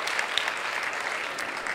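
An audience at a book-days author talk hosted by Aksaray Municipality claps in sustained, even applause from many hands, with no voices over it.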